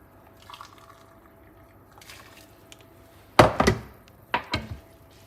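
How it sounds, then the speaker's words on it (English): Water poured into a cooking pot in a kitchen: a couple of short, splashy bursts of liquid hitting the vessel, fairly close, after quiet stretches with faint clinks. "Just 2 cups and a half of water"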